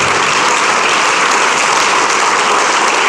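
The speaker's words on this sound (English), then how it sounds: "And you can clap for that." Sustained audience applause at a 2013 Chamber of Commerce awards event, dense and steady clapping from a large crowd throughout, loud and close with no talk over it.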